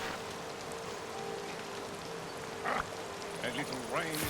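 Rain falls in the farming life-sim game Dreamlight Valley as a soft, constant hiss of drops across the whole clip, faint overall, with a few brief chirpy game sounds and voice-like bursts near the end.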